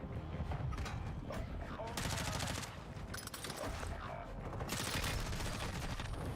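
Rapid automatic gunfire in Call of Duty Warzone 2 on the Vondel Resurgence map, dense bursts crackling back to back with short gaps, loud and close, mixed with game sound effects.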